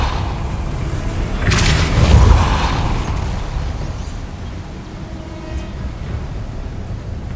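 Depulso force spell cast in Hogwarts Legacy, a loud booming magical blast that swells then rumbles and fades into a low ambient wash, with no voices.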